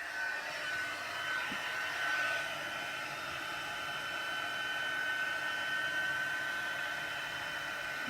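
A dryer runs continuously to dry shimmer on a Christmas card, a steady, fairly quiet whirring hiss with a faint high tonal whine and no breaks.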